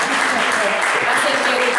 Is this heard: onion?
no